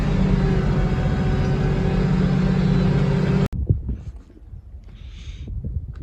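A tractor ploughing a field with heavy wheel slip gives a loud, steady engine drone that cuts off abruptly after about three and a half seconds, leaving a quieter, uneven rumble.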